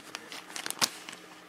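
Quiet, scattered crinkles and ticks of a plastic bag holding small electronic capacitors being handled close by, with one sharper rustle partway through.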